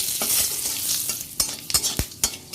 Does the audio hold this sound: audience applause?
no